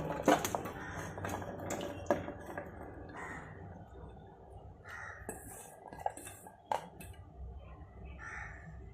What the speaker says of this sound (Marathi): याच्यामध्ये आता आपण ह्या कैरीच्या फोडी टाकून घेऊ